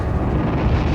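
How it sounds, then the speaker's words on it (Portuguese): A cannon shell bursting on a D-Day beach under German fire, a loud, dense, sustained rumble filling the whole moment. "Os alemães disparavam balas de canhão a cada minuto nos soldados da praia."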